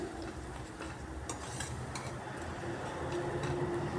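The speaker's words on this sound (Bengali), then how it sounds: "সামান্য হিং দিয়ে মশলার সাথে হিংটাকে আর একটু সময় কষিয়ে নিচ্ছি" Asafoetida being sautéed with a spice paste in a pan, a dense, continuous sizzle with a faint scraping stir and occasional soft clicks, steady and fairly close.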